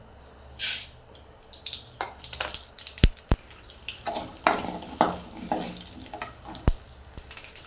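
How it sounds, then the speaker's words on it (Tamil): Mustard seeds and urad dal spluttering in hot oil in a kadai, with irregular close pops and crackles that burst out sharply, some loud, over a low frying hiss. "இப்போ கடுகு பொரிஞ்சிருச்சு"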